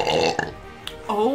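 A person lets out a short burp amid eating a spicy taco challenge, a brief guttural croak close to the mic, with voices around it.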